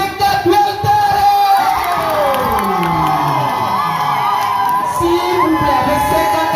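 A large crowd at a talent festival cheers and shouts loudly, with whoops and rising yells blending into a sustained roar that swells and lingers.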